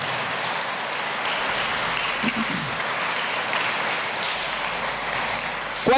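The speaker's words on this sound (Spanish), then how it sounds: "Dar un aplauso a Jesús" A church congregation applauds for Jesus: a broad, even wash of many hands clapping throughout, fairly loud and steady, with no voice over it.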